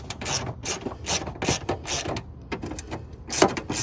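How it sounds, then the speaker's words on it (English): A ratchet on an extension turns a 10 mm bolt on a 2001 Silverado during a cold air intake install, giving a close, quiet series of sharp rhythmic clicking bursts in quick strokes, no talking. "I am using a regular ratchet extension 10 mil."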